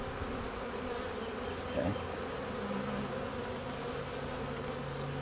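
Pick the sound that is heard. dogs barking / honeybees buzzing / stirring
honeybees buzzing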